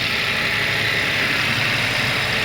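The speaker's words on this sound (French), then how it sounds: "La voiture a démarré." A 2022 Toyota Yaris Hybrid idles just after a jump start with a weak battery, giving a steady, close engine hum and broadband whir that holds evenly without a break.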